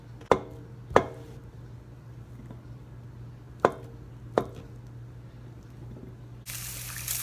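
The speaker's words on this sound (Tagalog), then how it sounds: "ikakat ko siya into square" A knife cuts Spam into squares on a board for fried rice, four sharp, separate thuds spaced unevenly, followed by a burst of running water at the end.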